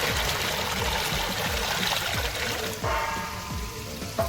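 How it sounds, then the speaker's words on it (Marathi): Hyacinth bean seeds washed by hand in water, making a continuous close splashing and trickling with a sloshing surge near the end. "परत आपण ही भाजी धुवून घेऊया"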